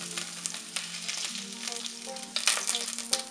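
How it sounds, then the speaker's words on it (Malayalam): Mustard seeds and finely chopped ginger crackle in hot oil: continuous close sizzle with scattered pops and spits, growing louder near the end, with no talking. "ഇതിലേക്ക് ഒരു അര ടീസ്പൂൺ കടുക് ഇട്ട് കൊടുക്കാം."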